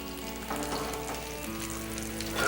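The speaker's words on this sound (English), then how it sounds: "right, we got everything frying." Lime-crusted trout fillets frying in a pan, giving a steady, close sizzle with a low hum underneath that swells slightly at the end, with no talking.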